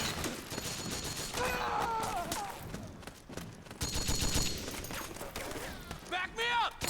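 Bursts of gunfire in the Metal Gear Solid 4 video game, rapid volleys crackling across several seconds amid game noise, with voices shouting over the shooting.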